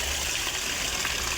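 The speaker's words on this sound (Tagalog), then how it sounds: "Lagyan ko ulit ng tubig." Water pours steadily into an aquaponics tank stocked with tilapia, refilling it after draining, a continuous close rushing gush with no talk.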